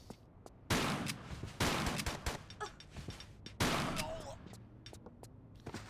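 Shotgun fire in Tomb Raider 3, in the Thames Wharf level: three loud, spaced blasts, each with a decaying tail, over quiet game ambience with smaller clicks between.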